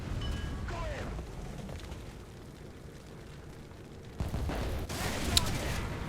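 Japanese tank howitzer shell fired in War Thunder: a muffled rumble at the start, a quiet stretch, then a loud blast and booming echo around four seconds in, with a sharp impact crack shortly after and talk throughout.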